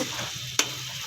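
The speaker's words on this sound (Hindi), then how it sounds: "इसको थोड़ा सा हल्का सा भून के तो फिर मैं इसमें भिंडियाँ डाल दूँगी" Masala lightly frying in a pan before okra goes in, a continuous close sizzle with one quick scrape of a spoon midway.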